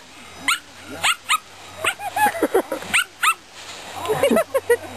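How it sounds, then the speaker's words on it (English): A Norwegian Lundehund plays in water, giving a series of short yips, whimpers and barks, close and loud, with splashing and people talking in between. "Have you ever seen a dog eat water?"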